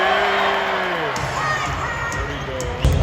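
An arena crowd at a Toronto Raptors basketball game roars and boos at the opponents, a loud, sustained mass of voices with rising shouts and a sharp burst near the end.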